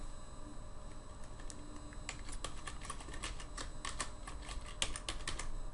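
Quiet, steady keystrokes patter on a computer keyboard in short runs of clicks against a faint background hum, with no voices.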